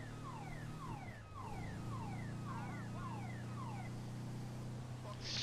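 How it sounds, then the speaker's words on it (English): Car alarm in a roleplay video game, a repeating series of falling electronic chirps cycling steadily over a low engine drone, fairly loud and continuous with no talk. "Stupid car alarm."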